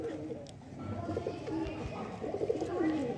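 Pet pigeons cooing softly at close range, several low, throaty repeated coos over a faint background murmur.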